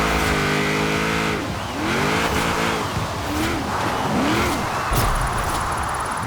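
A 2012 Jeep Wrangler Rubicon AWD with a drift tune revs hard and drifts, its engine note climbing and sweeping up and down through gear changes, loud and close throughout with bursts of tire noise.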